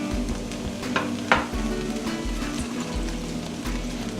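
Shredded cabbage is dropped onto onions in a hot pan, sizzling and frying with soft stirring scrapes and a few light clatters, close and moderately quiet.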